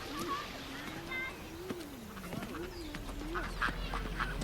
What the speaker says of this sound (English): with the ducks and the other pond birds, with all the quacking and the splashing that goes on all the time as they land and take off